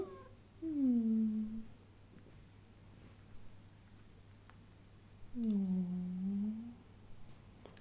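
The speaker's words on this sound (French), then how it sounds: "petit chat." A cat gives two long, drawn-out meows several seconds apart, clear and close over a low steady hum, with quiet between them.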